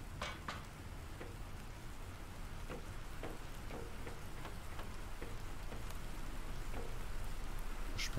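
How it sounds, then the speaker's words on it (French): Rain falling in the video game Planet Crafter, a soft continuous patter with scattered sharper droplet ticks over a low steady hiss, fairly quiet and even, no voices. "on dirait qu'il pleut, j'entends la pluie là"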